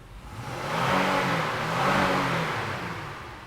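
The 3.5-liter, 280-horsepower engine of a 2016 Honda Pilot Touring revs up twice in close succession, each rise a rounded swell that eases back, heard close and without talk.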